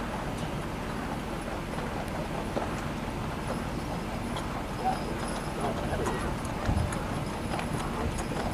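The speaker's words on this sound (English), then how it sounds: "So hopefully those horses won't be too afraid to walk across those steel scales." Horses' hooves clop on a steel weighing scale at a rail yard, giving a steady run of hollow, metallic steps beneath ongoing background noise and people talking.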